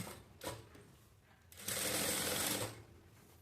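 A sewing machine stitching a blouse in a tailoring lesson: two brief bursts of rapid mechanical clatter, then a louder, sustained run of stitching for about a second before it stops.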